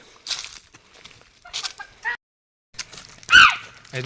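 A voice imitates a wild jungle fowl call in several short bursts with pauses, ending in a louder crowing-like cry.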